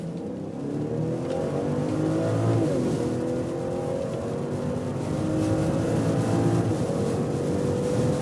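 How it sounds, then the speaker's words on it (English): A BMW 540i with its six-cylinder engine pulls hard on the Autobahn in sports mode, engine note rising steadily through the gears with a brief dip at a shift, loud and continuous throughout. "540i, the 6-cylinder in the 5 Series, and we go with the Autobahn acceleration"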